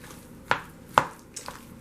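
Three pounds of chunky potatoes mixed with sour cream and butter, heard as a few close, heavy thuds of a utensil pressing and mashing in a bowl, two strong knocks then a softer one.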